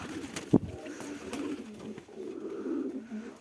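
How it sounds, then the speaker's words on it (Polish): Pigeons coo softly and repeatedly in a continuous low murmur. One sharp louder knock sounds near the start. "O, te sobie siedzą, moi już gruchają."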